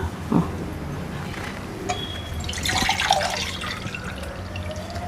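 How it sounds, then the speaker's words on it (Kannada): Three cups of water poured into a pot for cooking rice flour for ghee akki rotti, a steady close splashing pour with a few drips, no talk. "ಮೂರ್ ಲೋಟ ನೀರು ಹಾಕ್ಲಾ"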